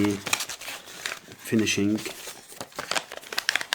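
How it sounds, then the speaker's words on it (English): Small paper crinkling as it is wrapped over the nose of a P51D Mustang RC airplane during motor mount repair, close rustles and crackles coming in bursts beneath someone speaking. "But first I will cover it with small paper in order not to scratch the"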